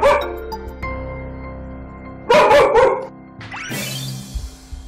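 A dog barks in several loud, close bursts with yelps and whimpers between them, inside a family home during a training session.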